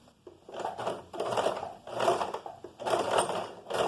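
A sewing machine runs a second line of topstitching along the inside of a pocket, presser foot guided on the pocket's edge; several bursts of steady mechanical stitching with short pauses between, close and fairly loud, no talk.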